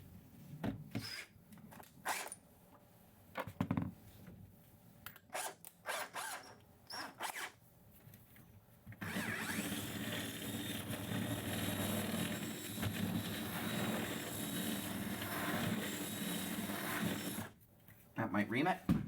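A step drill bit reams out a hole in a metal network switch housing with a steady, grinding whir that runs continuously for several seconds. Scattered clicks and handling noises come before it, and brief handling sounds follow.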